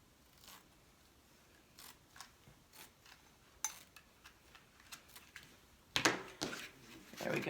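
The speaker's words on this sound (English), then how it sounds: "I'm going to take this burlap, cut it the length there." Scissors snip through burlap in a string of short, crisp cuts, quiet at first and then louder, rustling fabric handling near the end, all close up with no talking.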